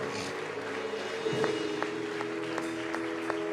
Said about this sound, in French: Acclamez très fort, c'est fait.